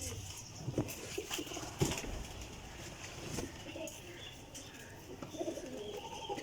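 Flying pigeons coo softly and repeatedly, the low throaty calls recurring over light background noise and a few sharper clicks.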